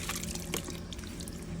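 Water draining out of a homemade filter for a budget above-ground backyard pond, a steady close pouring and trickling rush that runs unbroken throughout.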